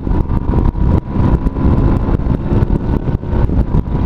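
A Suzuki Bandit motorcycle engine roars at wide open throttle on a country back road, loud and close, with a continuous buzzing drone and wind buffeting; no talking.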